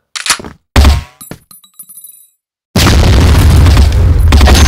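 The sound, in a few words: grenade explosion in a video game shooter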